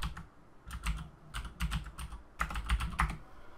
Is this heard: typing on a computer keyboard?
yes